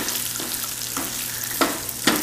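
Wild rice and mushrooms sizzle softly in a pan on a grill as they are stirred with a spoon, a steady frying hiss broken by a few light scraping knocks.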